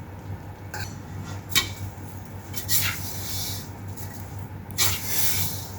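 Saffron, sugar and cardamom mixture stirred with a utensil in a bowl, giving soft scraping clinks and a few louder taps against the dish over a steady low hum, with no talking.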